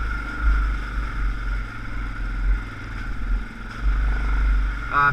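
An ATV creeps through a mud hole in low gear on rough, rocky terrain, its engine holding a steady, continuous drone at even throttle with slight swells in loudness and no voices.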